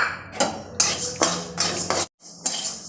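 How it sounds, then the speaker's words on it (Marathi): Urad dal being dry-roasted in a pan, a metal spoon scraping and clattering against it in repeated strokes with brief pauses, close and clear. "उडदाची डाळ पण भाजून घेणार आहे।"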